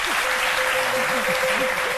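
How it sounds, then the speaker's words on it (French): Studio audience on a Côte d'Ivoire television set claps loudly and continuously, a dense, even wash of applause with a faint tonal hum running beneath it. "On l'applaudit très fort."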